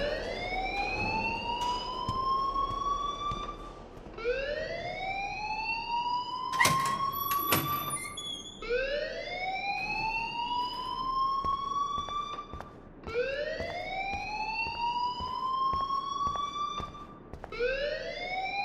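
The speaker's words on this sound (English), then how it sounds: "please turn off that alarm since that's your job" A loud electronic school alarm in Life is Strange blares in repeated rising sweeps, each lasting a few seconds, continuous and close with no talk, broken briefly by a sharp clatter partway through.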